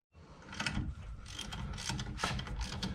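A ratchet turning a socket on a truck brake bolt during a brake rotor upgrade, clicking in quick repeated bursts close by, with no voices.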